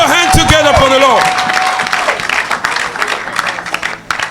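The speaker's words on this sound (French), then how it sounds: "Put your hands together for the Lord." A church congregation applauds and cheers at a worship service, a dense wash of clapping with voices singing and calling out over it, steady and loud throughout.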